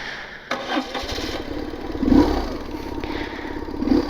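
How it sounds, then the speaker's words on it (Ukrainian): A BMW R1100R motorcycle's roughly 25-year-old 1100 cc boxer engine cranks and catches, then settles into a throbbing idle with a couple of blips of the throttle, close by. "Запускаємо двигун"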